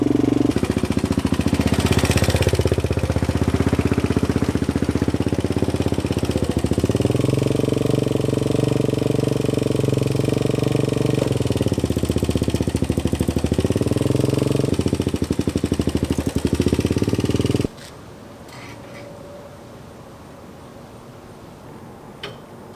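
A quad ATV engine runs close by for about eighteen seconds, a loud steady chugging idle with slight rises in pitch, then cuts off abruptly and leaves quiet.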